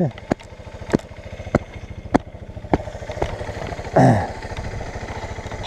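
A motorcycle engine, dusty from dirt roads, idling close by with a steady low putter, punctuated by sharp clicks and a brief louder rev near the end.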